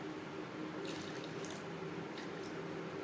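Water pours into soaked moong dal in a cooking pot, a steady close splashing stream with brief brighter splashes partway through.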